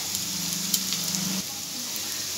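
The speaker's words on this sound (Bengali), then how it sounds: "পেঁয়াজগুলো আমি একটু লাল লাল করে ভেজে নিচ্ছি।" Onions sizzling as they fry in a pan, a steady close hiss with faint crackles and a soft low hum, no voices.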